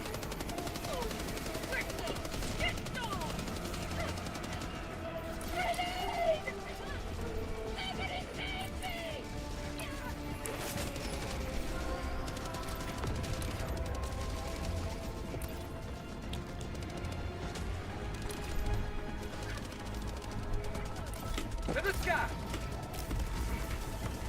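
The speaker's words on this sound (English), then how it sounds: "Yeah, that machine gun sentry distracted them for all of about 15 seconds." A machine gun sentry firing in a video game, long sustained rattling bursts mixed with mechanical clatter and crashes, steady and close under ongoing talk from players.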